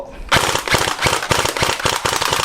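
A Double Bell AKS-74N electric BB gun fires full auto in a rapid, loud burst of sharp cracks, with short pauses between strings of shots, lasting about two seconds.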